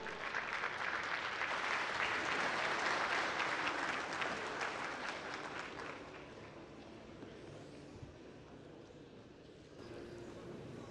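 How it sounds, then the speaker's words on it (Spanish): A crowd at a housing forum in Torreón, Mexico applauds a guest speaker's welcome, sustained dense clapping that swells, then thins and tapers toward the end. "Un aplauso, por favor"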